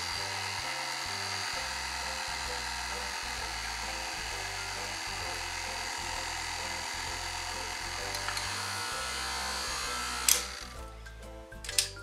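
Electric mixer running at low speed through cake batter for a rolled cake, a steady close motor whir that continues throughout, with a few clattering knocks near the end.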